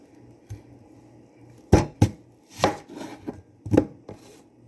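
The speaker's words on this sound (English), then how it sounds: "And I'm going to start cutting my onion" A white onion being chopped with a knife on a board, a few sharp close thuds landing in an irregular rhythm, with quieter taps early on and no talking.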